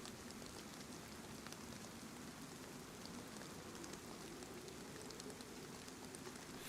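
Steady rain falling in the survival game DayZ on its original map, a constant even hiss with light pattering drops throughout, no speech.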